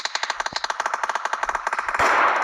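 Rapid automatic gunfire in the video game PUBG, a fast burst of about a dozen shots per second sustained for two seconds, loud and close, ending in a heavier blast.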